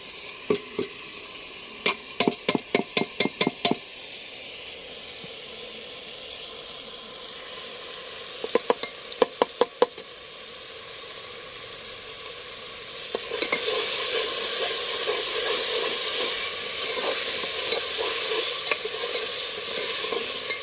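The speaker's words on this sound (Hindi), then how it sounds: "मसला कुछ समय कषा।" Masala frying for a wood-stove mutton curry, a steady sizzle that swells louder midway, broken by bursts of rapid spoon scrapes and clinks against the pan as it is stirred.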